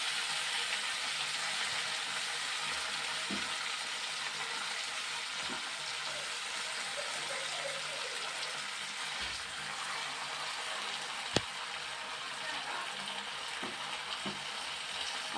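Washed gongura leaves frying in hot oil, giving a steady, loud sizzle throughout, with a few faint knocks and one sharp click partway through.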